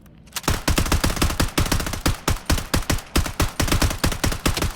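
Rapid automatic gunfire from the shooter game Blood Strike: about twenty sharp, loud shots in quick bursts with short gaps, close and punchy, with no talking over them.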